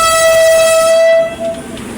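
A heavily loaded freight train rolls close by with a long, loud horn blast, the tone cutting off as rumbling wheels carry on more quietly.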